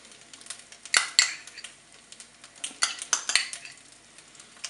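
A spoon scrapes and knocks around the inside of a Cookeo pot while tomato concentrate is stirred into turkey and rice, producing close, irregular metallic clinks and scraping swishes.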